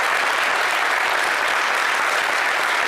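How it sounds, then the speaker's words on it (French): A television studio audience applauding vigorously, a dense, even roar of clapping hands that holds steady and loud from start to end. "c'est peut-être le public qui applaudit avec le plus de vigueur"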